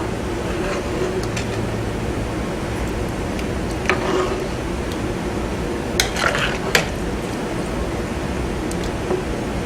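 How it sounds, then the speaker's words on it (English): A spoon works through squirrel gravy in a pot, scraping the bottom with soft intermittent clinks against the metal over a low simmering hiss, close up and without voices. "I just want to stir it and kind of make sure that everything is off the bottom"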